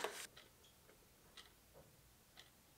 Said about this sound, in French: Je pense que ça va me saouler d'entendre le tic-tac, tic-tac, tic-tac tout le temps là